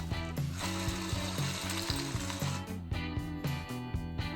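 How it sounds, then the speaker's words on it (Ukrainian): An MG995 servo motor in an automatic cat feeder turning the food wheel, giving a rhythmic mechanical ratcheting whir with repeated gear clicks in close, steady cycles and no talking. "серводвигун MG995 для обертання коліщатка подачі корму"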